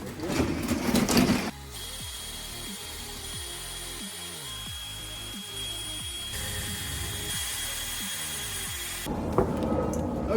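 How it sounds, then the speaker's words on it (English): A power drill bores rivet holes through a DIY ducktail wing on a workbench, a steady whine pulsing as the bit bites in short repeated pushes, with brief rustling handling at either end. "What I need to do now is drill the holes and then put the rivets through"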